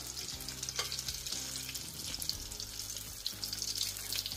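Köfte meatballs frying in oil, a steady close sizzle and crackle of hot fat with occasional stirring noises, continuous throughout.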